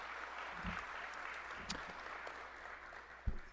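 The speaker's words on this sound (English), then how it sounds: "Let's give them all a round of applause for their support of today's event." Quiet, distant applause from a seated audience at a city's State of the City event honoring sponsors, a soft wash of clapping with a few louder thumps.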